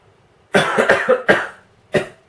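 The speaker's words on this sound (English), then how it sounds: "You can get a lot of coughing during this one." Several harsh coughs from a person with a sore throat in quick succession, close and loud, followed by a pause and one more sharp cough.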